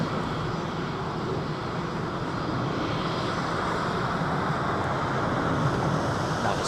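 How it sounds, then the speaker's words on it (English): Rolls-Royce Trent 800 jet engines spool up at London Heathrow as a loud, steady, broadband roar that holds constant and unbroken the whole time, with no voices. "Another set of Trent 8s whirring up."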